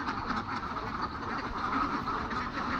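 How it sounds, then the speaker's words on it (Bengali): A flock of ducks being brought in from a wetland quacks in a dense, continuous chorus, moderately loud and steady throughout. "বিভিন্ন খাবার খেয়ে এখন তাদের যে দেখাশোনা করে সেই লোক নিয়ে আসছে হাঁসগুলাকে"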